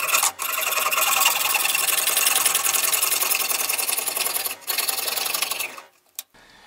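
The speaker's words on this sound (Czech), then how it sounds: "Na druhou stranu to jde strašně dobře řezat pilkou na železo." Hacksaw cutting soft plastic while making a plastic box, a continuous close rasping stroke that runs steadily with two brief pauses before stopping near the end.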